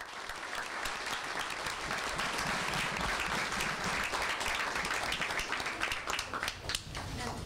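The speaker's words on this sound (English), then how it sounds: "Let's give them a round of applause." Audience applause at a school board meeting honoring high school students, a sustained, dense wash of clapping from the room lasting several seconds at steady volume, slightly distant.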